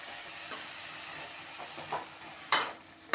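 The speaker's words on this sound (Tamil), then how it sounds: "நல்லா வதக்கிக்கலாம்." Mint and coriander leaves sautéed with tamarind in a pan, a soft low sizzle with light stirring scrapes and two sharp clatters of a spoon against the pan near the end.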